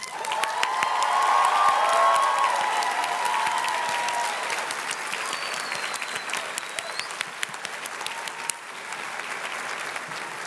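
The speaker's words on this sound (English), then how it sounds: "Huge gratitude and applause for the Reed College staff" Sustained applause fills a large outdoor college commencement, loud and dense at first and easing slightly while scattered cheers and a few shouts rise from the crowd.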